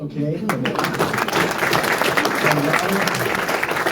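Audience applause at an Alaska Senate District D debate, a dense steady clatter of clapping from a crowd, with a speaker's voice briefly heard over it.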